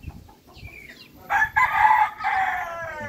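Two-month-old Rhode Island chickens give shrill, wavering crowing and clucking calls close by, several bursts in quick succession over a quiet background.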